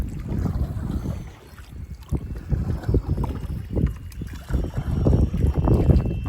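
Wind gusting over a lake during a canoe outing, low rumbling buffeting against the microphone that rises and falls in uneven surges, with faint water movement beneath.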